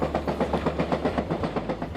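A train rolls along the rails in Alaska with a rhythmic clickety-clack, steady wheel beats over a low rumble.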